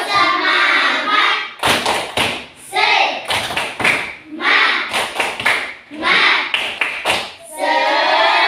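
A primary school class performs the tepuk semangat chant, bursts of loud rhythmic group clapping alternating with children's chanted voices in a repeating pattern, the claps sharp and close.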